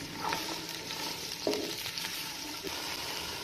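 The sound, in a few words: onions frying in hot cooking oil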